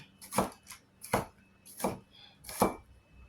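A knife chops onion on a board for pasta stew, four distinct firm chops in an uneven rhythm, close and clear against a quiet background with no speech.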